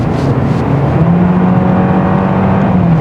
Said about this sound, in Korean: 이렇게 가속을 해보면은 엔진 소리가 좋은 건 아닌데